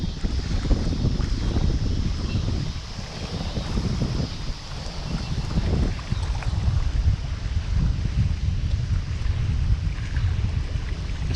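Steady strong wind roars across the Mississippi River ahead of a hurricane, a loud continuous broadband rush buffeting the microphone from an open fishing spot, with no pauses.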